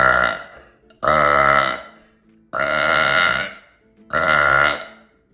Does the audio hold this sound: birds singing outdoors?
no